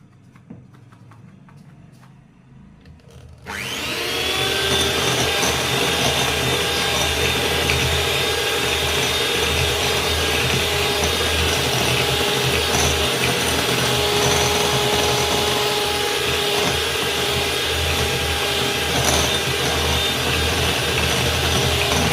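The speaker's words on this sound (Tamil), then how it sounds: "இப்போ இதில் ப்ரௌன் சுகரை நம்ம கொஞ்சம் கொஞ்சமாக ஆட் பண்ணி பீட் பண்ணி எடுத்துக்கலாம்." Electric hand mixer switches on after a quiet start and runs at a steady, loud whir without a break, beating butter and brown sugar for a Christmas plum cake.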